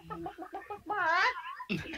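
A game-show contestant vocally imitates a chicken, giving a run of short, rhythmic clucks that rise into a drawn-out, warbling squawk, close and fairly loud, followed by a brief burst of audience noise.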